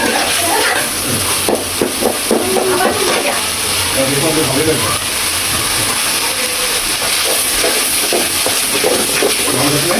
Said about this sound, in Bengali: আমার একটু মশলাটা আমি ভাজা ভাজা করে নিব আরও